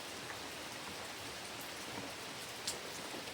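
Rain falls steadily on a wet morning, an even, moderately quiet patter with scattered nearby drops and no voices.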